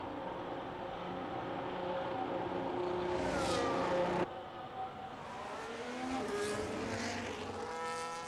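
An F1 25 video game car races through a chicane at the Canadian circuit, its engine screaming loud and close with sharp up- and downshifts, a brief tyre squeal, then revving hard again on exit.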